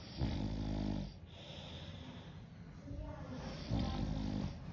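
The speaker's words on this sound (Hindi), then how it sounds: "तो दोस्तों ये कुछ इस तरह से खर्राटे लेता है" A man asleep outdoors on a warm night snores nearby, two deep rattling breaths a few seconds apart with quieter breathing between them.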